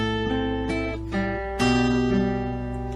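Acoustic folk guitar plays a single measure of Scarborough Fair: a few picked notes ringing over sustained bass strings, steady and close, with a firmer pluck partway through and no talking.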